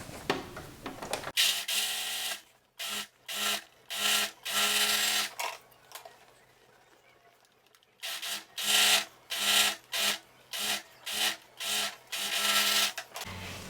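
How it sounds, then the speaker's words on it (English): An overlocker serges the sleeve seam of a button-up blouse in repeated bursts of fast mechanical whirring, pausing in the middle before running again in short, regular spurts, close and steady with no talking. "now I'm just gonna overlock it"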